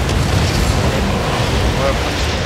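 Buildings crumble in SimCity, a continuous loud rumble of collapsing rubble and low booms with no pauses throughout.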